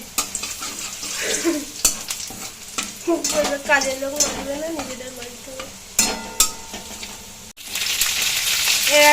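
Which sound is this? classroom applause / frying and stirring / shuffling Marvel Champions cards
frying and stirring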